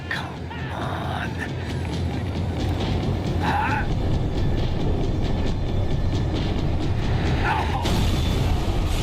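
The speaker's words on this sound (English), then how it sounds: "The tram was slowing down, and I'd only just gotten on board." A tram in the video game Max Payne 3 rolls along with a steady rumbling drone and occasional clanks and faint squeals, heard continuously as it slows.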